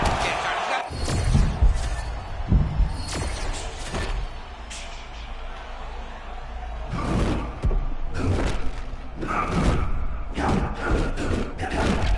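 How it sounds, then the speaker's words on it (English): Heavy punches landing in a UFC 6 video game bout, a string of loud dull thuds and slams in quick bursts over steady crowd roar, with brief gaps between flurries. "Continues to sway with every huge shot being landed"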